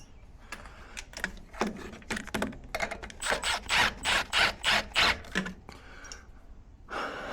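A ratcheting wrench tightens a bolt on a new pulley under a zero-turn lawn mower, giving a quick run of close, rhythmic clicks that speeds into steady pulses before fading.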